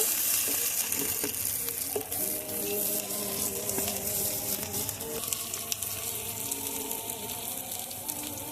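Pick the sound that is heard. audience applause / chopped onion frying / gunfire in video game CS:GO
chopped onion frying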